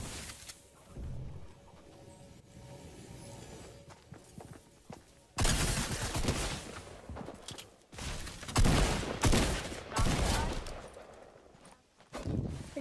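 Video game gunfire, with bursts of rapid shots that are loud and close, broken by quieter gaps holding small thuds and footsteps.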